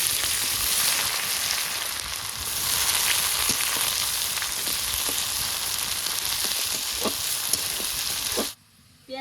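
Whole garam masala, cumin seeds and two bay leaves frying in hot oil give a loud, dense, unbroken sizzle with faint crackles, cutting off abruptly just before the end.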